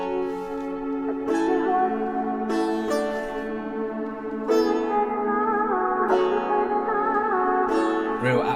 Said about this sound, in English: the chords sound like this